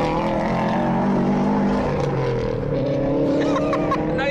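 A Subaru Forester STI race car on a timed track lap holds a loud, steady engine drone in second gear after a downshift, heard close from inside the car with rising harmonic tones.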